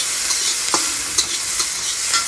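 Oil sizzles steadily in a pan as gourd seeds fry, with a few light scrapes of stirring and no voices.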